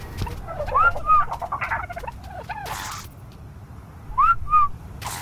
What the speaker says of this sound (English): Make sure your crosshair's over the trilobite and whistle at it for the all attack